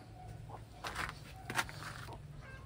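A few soft clucking calls from a small-to-medium racing pigeon come through a quiet background hum, brief and moderately close.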